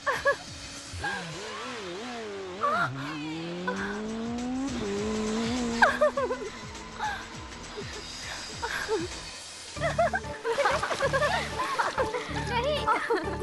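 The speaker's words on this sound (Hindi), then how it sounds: "तुमने देखा था ना कितनी जबरदस्त बाइक चला रहा था वो।" A motorbike doing stunts in an action film revs with rising and falling engine tones and screeching tires, heard under people talking, with music entering near the end.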